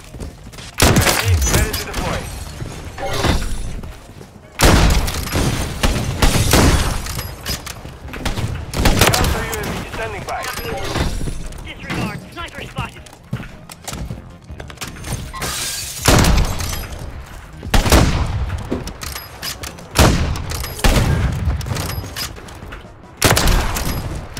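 Rapid sniper and weapon fire in an online shooter match, with bursts of shots and impacts repeating throughout amid dense game noise, while a player talks over the action.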